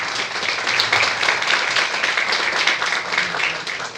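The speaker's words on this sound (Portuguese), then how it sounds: "Salve de palmas" A full plenary at a human rights award ceremony bursts into applause, loud and sustained clapping from many hands, steady from start to finish with a few sharper individual claps on top.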